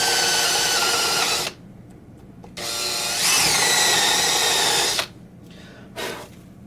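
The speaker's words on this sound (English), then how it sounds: "I have to use my hand drill" Handheld drill boring through a wooden Tele-style guitar body template, a loud whining run of about a second and a half, a pause, then a longer steady burst from 2.5 to 5 seconds and a short final spurt.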